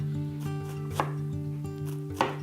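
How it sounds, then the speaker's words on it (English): A knife chops an onion finely on a cutting board, giving quick crisp knocks in an irregular rhythm, close up, over a steady low background hum with no talk. "you can just kind of chop away and chop until it's all finely diced"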